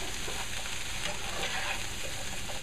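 Chicken with mushrooms and onions browns in a hot pan, sizzling steadily and loudly while a spatula stirs it now and then, with no talking.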